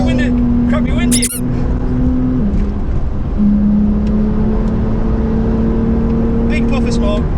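A Porsche 911 Carrera, crash damaged, driving on the Nurburgring track, loud sustained engine drone from inside the car with a sharp stone strike on the body partway through, people talking over it.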